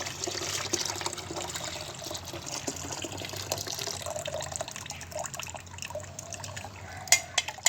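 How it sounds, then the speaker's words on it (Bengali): Bengali cook strains a liquor-tea mixture through a strainer into a pot of water, meant as fertilizer for a hibiscus plant; a steady watery trickle and splashing runs throughout at close range, with a few sharper drips near the end. "সমস্ত জিনিসটা কিন্তু আমরা এর মধ্যে ছেঁকে নিচ্ছি"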